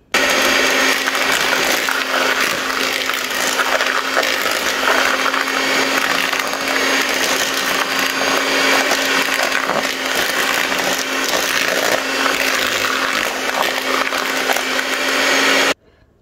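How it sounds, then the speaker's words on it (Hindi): Butter and brown sugar being mixed for a sticky toffee pudding, heard as a loud continuous mechanical whir with a steady hum and scraping texture lasting about fifteen seconds before stopping abruptly, with no voices. "इस तरह सबसे पहले हमने ब्राउन शुगर और बटर को मिक्स किया।"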